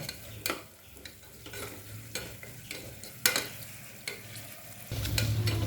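Onions and ginger-garlic paste sautéing in a pan for a fish curry, with repeated scraping stir strokes over a low, steady sizzle that grows louder near the end.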